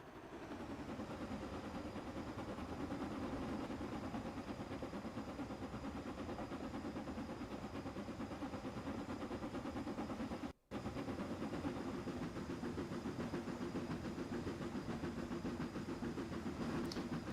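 Black 5 steam locomotive in Train Sim Classic, a steady low rumble and hiss of the engine held constant and fairly faint, with a brief dropout partway through.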